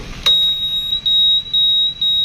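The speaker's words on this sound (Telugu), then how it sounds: "సో టర్న్ ఇండికేటర్కి బజర్ కూడా వేశారండి" The turn indicator buzzer of a 2006 Hero Honda Passion Plus motorcycle beeps on and off in a steady, even rhythm, high-pitched, close and fairly loud, with no one talking.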